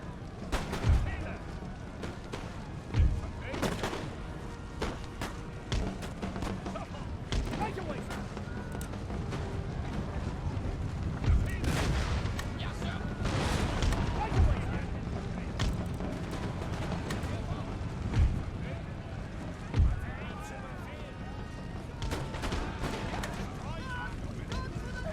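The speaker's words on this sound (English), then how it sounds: "Pirate mob again engaging my cannons here." Naval battle in Empire: Total War, with ship cannons booming and musket volleys crackling, several sharp blasts standing out over a continuous rumble of battle noise, faint and distant overall, with someone talking over it.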